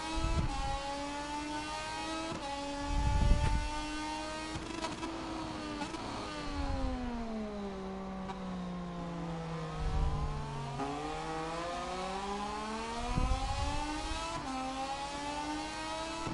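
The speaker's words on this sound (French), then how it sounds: "On n'arrive même pas à suivre Izan Guevara qui est devant nous" A Moto3 racing motorcycle at full throttle during a race in Italy, heard close and continuous, its high engine whine climbing through the revs and dropping at each gear change, with occasional low thumps and no talking.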